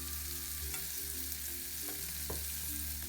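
Ingredients for a split wheat upma are stirred in a frying pan over a continuous soft sizzle, with a few light scrapes of the spoon breaking through.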